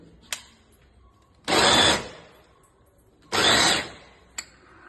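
An electric vegetable chopper whirring through cut vegetables for a semiya omelette in two short loud bursts of about half a second each, separated by quiet, with small clicks at the start and end.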